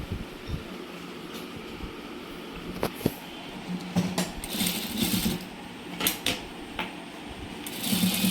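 A sewing machine stitches a princess-cut garment from the armhole downward, running in quiet, uneven bursts of rapid mechanical clatter with brief pauses, close by and alone without talk.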